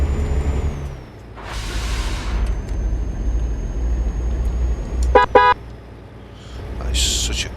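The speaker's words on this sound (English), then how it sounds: "That is such a car hooter." A MAN F90 truck in Euro Truck Simulator 2 gives a short, bright double-toned horn blast like a car hooter, set among steady engine drone at a port with air brake hisses and a later sharp hiss.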